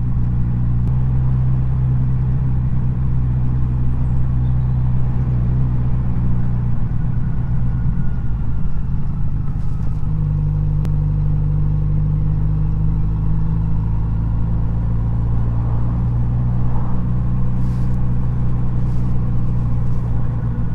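Kawasaki Z900 RS motorcycle engine while riding to a small town, a steady, loud low rumble that holds a fairly even pitch throughout, with wind noise and no talking.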